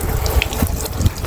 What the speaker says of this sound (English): You just want to give it a quick rinse first of all the debris that you can get off.